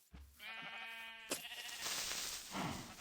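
A Minecraft sheep bleats in a wavering, harmonic cry that carries for over a second, then gives way to a broad burst of game noise and ambient rustle.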